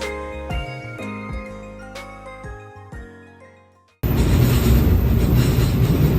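A chiming melody plays for a few seconds at Izumoshi station in Japan, then cuts abruptly to the loud, steady rumble of a train in motion.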